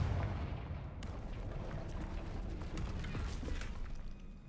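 A Confringo fire spell blast in Hogwarts Legacy, heard as a loud, sustained crackling burst with rumbling low end and sharp clattering transients, filling the whole moment without speech.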